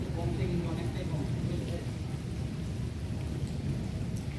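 Steady heavy rain pours with a low rumble of thunder underneath, a dense, continuous wash of sound close around, with a voice speaking over it.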